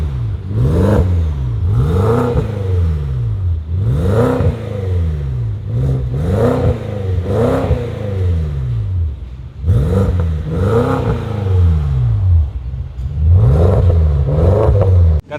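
A red 2012 BMW X5M with an X-pipe and Vibrant Ultra Quiet exhaust revs repeatedly, a loud, close series of about a dozen rising-and-falling throttle blips in quick succession, deep and rumbling, with no talk.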